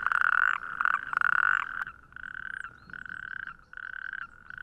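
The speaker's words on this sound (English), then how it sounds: "male natterjack toads have begun their evening chorus" Male natterjack toads call in an evening chorus on southern English heathland, loud rolling trills repeating in bursts, several overlapping at first then settling into a regular rhythm of separate calls.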